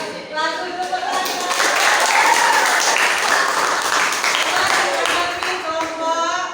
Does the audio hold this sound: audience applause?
yes